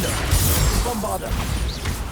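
A Bombarda blasting spell in Hogwarts Legacy hits with a crunching impact and smash amid whooshing magical effects, close and dense, over a constant game-action rumble.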